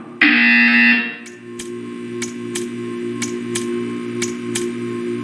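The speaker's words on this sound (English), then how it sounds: "You will hear a buzzer. When you hear the buzzer, stare at the art." A loud, steady electronic buzzer in Portal 2 sounds for about a second, then cuts off, leaving a low hum with faint periodic clicks.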